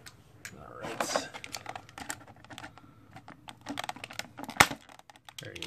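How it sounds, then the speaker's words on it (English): A box cutter slices a toy action figure out of its plastic blister pack, giving a quiet run of irregular clicks, scrapes and crinkles with one sharp snap near the end, and some faint talk alongside. "So let me get my trusty box cutter and cut him out."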